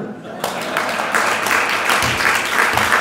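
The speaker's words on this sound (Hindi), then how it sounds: "ताली बजाओ ना।" A seated crowd at a Hindi moral-teaching talk breaks into applause after a brief quiet start, the clapping sustained and moderately loud for the rest of the short stretch.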